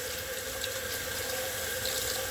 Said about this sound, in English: And then give it a rinse.